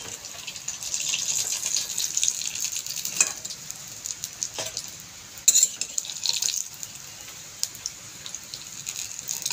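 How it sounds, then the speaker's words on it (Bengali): Coriander leaf fritters frying in hot oil, a continuous fine hiss and crackle with occasional sharper pops and clatters, heard alone throughout. "এই রকম করে ভেজে নেবেন, এরকম করে ভেজে তারপরে করে খাবেন"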